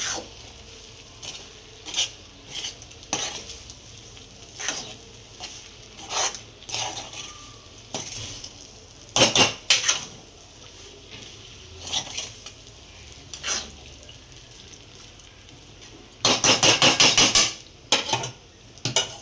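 A spoon scrapes and clinks against a pan as sabudana and peanuts are stirred together for khichdi, giving irregular metallic taps and scrapes with a rapid cluster of clatters near the end.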